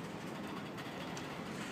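Indian Pacific passenger train arriving into Sydney Central Terminal, a steady broadband rumble of rail cars rolling along the track, fairly close and continuous with no voices.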